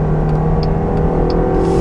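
Interior of a 2022 Jeep Grand Cherokee Overland accelerating from about 55 mph on the road, a steady, loud engine and road drone with a faint high whine and no talking.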